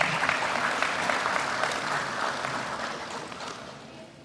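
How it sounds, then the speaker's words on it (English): Audience applause at a graduation ceremony, dense clapping from a large crowd that starts strong and slowly fades toward the end. "A round of applause for her, please."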